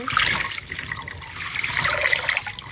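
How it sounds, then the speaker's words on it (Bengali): Radish greens are washed under running water for cooking, and a steady splashing gush of tap water continues close by throughout, with no talking. "এখন শাকটা আমি ভালো করে ধুয়ে নেব"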